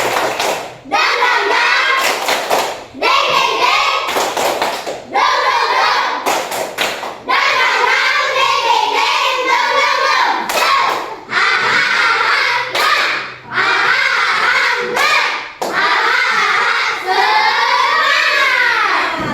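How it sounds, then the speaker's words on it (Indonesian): A group performs a rhythmic spirit clap, bursts of loud, patterned clapping in repeated sequences with short pauses between them, mixed with children's voices chanting along. "Tepuk semangat."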